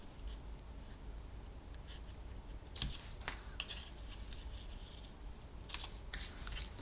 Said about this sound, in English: Then you can trim off the ends of the ribbon.